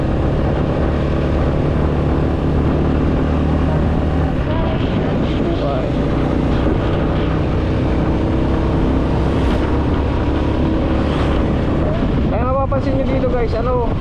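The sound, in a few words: big bike motorcycles passing by on the road to the tunnel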